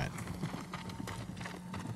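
Samurai horses' hooves clop steadily at the stables in Ghost of Tsushima, a close, even run of hoofbeats with a faint whinny underneath and ambient hum throughout.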